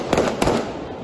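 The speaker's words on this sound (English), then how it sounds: "with gunfire still erupting" Heavy gunfire crackles during an assassination attempt on Haiti's prime minister, with two sharp, loud bursts of shots close together against a noisy outdoor background.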